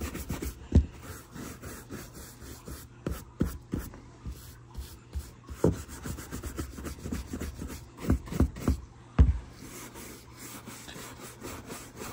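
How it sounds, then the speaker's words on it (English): A brush rubs mink oil into old leather boots in quick scrubbing bursts, close and dry, with short pauses between strokes and a faint steady hum underneath. "I'm using this brush because, it'll just help kind of disperse whatever's excess maybe on here."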